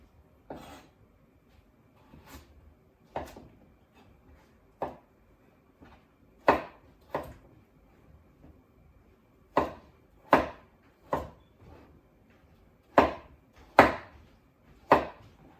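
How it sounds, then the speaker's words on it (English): A knife chops through kabocha squash into bite-sized pieces on a cutting board, with sharp, close thuds spaced unevenly at first and then falling into a steadier rhythm, each cut distinct against a quiet background. "Let's just cut this into bite-sized pieces."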